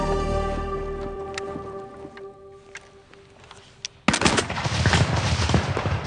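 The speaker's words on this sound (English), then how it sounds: "gunfire signals the beginning of the Battle of Waterloo" A sudden loud burst of musket and cannon gunfire opening the Battle of Waterloo erupts after a few seconds of quieter background, continuing as a dense crackling barrage.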